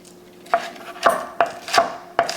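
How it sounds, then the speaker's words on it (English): A knife chops green and purple onion on a cutting board in five crisp, close knocks at an uneven pace, each with a short wet crunch, with quiet gaps between strokes. "Get it chopped up nice and fine."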